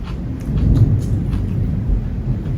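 Thunder rolls in a low, continuous rumble during a heavy-rain thunderstorm, heard from indoors as a steady, loud wash of deep noise without distinct cracks.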